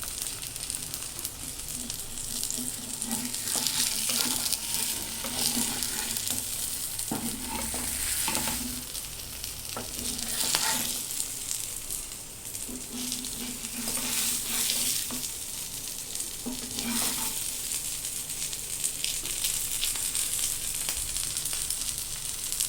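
A spiced mashed potato mixture with turmeric and chili powder fries in a pan and gets turned repeatedly, a steady close sizzle broken by scraping stirs and spatula knocks, with no talking.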